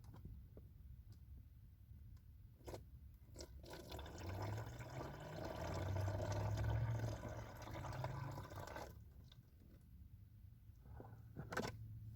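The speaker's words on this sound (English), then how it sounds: "And I should pour this back in the bottle actually" Tie-dye liquid is poured back into a bottle inside a van, a soft gurgling trickle swelling for a few seconds and then tapering, with light clicks and taps around it.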